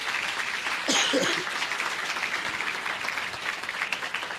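Congregation applauding to thank God during a Sunday church service, a steady wash of clapping throughout with a brief louder burst near the start.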